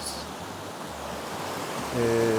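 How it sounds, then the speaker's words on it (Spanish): A river flows along a hiking trail in Colorado, a steady broadband rushing of water that holds throughout, with a faint low hum entering near the end. "pues vamos a cruzar este río"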